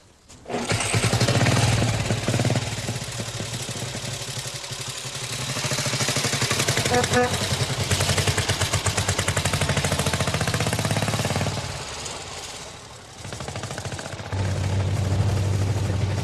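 An old motorcycle, ridden daily until 1969, runs with a loud, steady engine throb and a rapid firing pulse that swells and eases as it revs, dipping briefly before picking up again.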